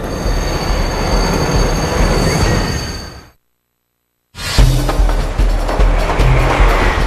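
A São Paulo metro train rumbling past at Sé station with a loud roar and high squeal, cut by a second of silence before the noise resumes.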